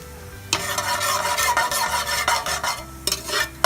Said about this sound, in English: Just want to give it a gentle stir